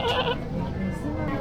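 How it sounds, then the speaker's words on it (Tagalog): A goat bleats at Ichikawa Zoo, a short nasal call at the start set against a busy background of visitors talking nearby. "Ito kambing."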